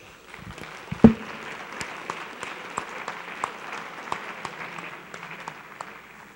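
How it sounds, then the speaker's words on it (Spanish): At the GuadalajaraCON 2013 security conference, an audience claps for the organizers, a soft, scattered round with one sharp close clap near the start, continuing for several seconds. "Yo más bien pido un aplauso para los organizadores."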